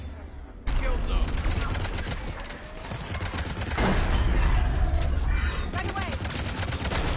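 Dense gunfire rattles nonstop in a Mass Effect 3 battle against the Reapers, with loud rapid bursts and heavier blasts layered together. A voice calls out over the shooting.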